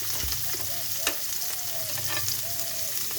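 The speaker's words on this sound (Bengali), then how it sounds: "পেঁয়াজটা ভাজা হয়ে গেছে" Onion and green chili sizzle and crackle in a little hot oil, a steady close frying hiss with light stirring scrapes from a spoon in the pan.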